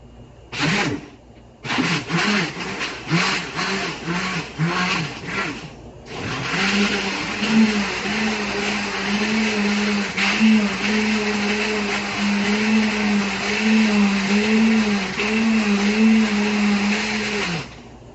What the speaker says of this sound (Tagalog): So ihulog natin, i-blend na po natin.